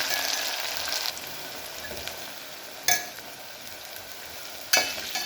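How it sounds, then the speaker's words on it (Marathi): Tomatoes sautéing in a tempering of fried onion for a rajma curry, with a bright continuous sizzle and a couple of sharp spoon-scraping stirs against the pan, no one talking. "छान असं टोमॅटोही आपल्याला परतून घ्यायचं आहे।"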